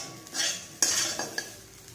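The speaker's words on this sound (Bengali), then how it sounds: "এটা হচ্ছে কাঁচকলা ভাজা" Raw green banana slices frying with black cumin seeds in a home kitchen, a soft sizzle punctuated by a few close metallic clinks and scrapes of a utensil against the pan.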